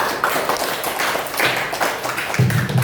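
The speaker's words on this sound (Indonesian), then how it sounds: "Beri tepuk tangan dong, Kak Ica." Group of listeners at a gathering held at an orphanage applauding a presenter named Kak Ica, continuous dense clapping close by and fairly loud, with a low murmur of voices and a tonal hum emerging near the end.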